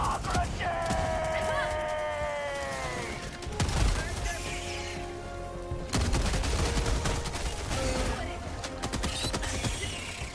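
Auto turret gunfire in the Helldivers 2 video game, dense bursts and mechanical clatter mixed into a busy battle soundscape with overlapping tonal game effects and voices talking throughout.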